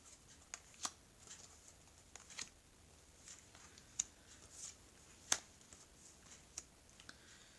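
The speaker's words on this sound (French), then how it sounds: "on va étaler les cartes." Tarot cards are shuffled and spread out on a table, faint soft card slides and scattered crisp snaps and taps landing irregularly over a quiet background.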